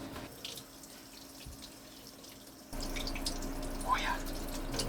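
Water runs from a tap in a small camping bathroom, a soft trickle that turns into a louder, steady gush partway through, close by, with a brief faint voice.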